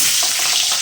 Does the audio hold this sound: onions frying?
yes